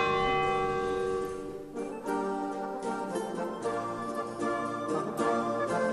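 Church bells ring out over Ljubljana, Slovenia, in a dense, sustained peal with overlapping strikes, loud and continuous throughout with no voices.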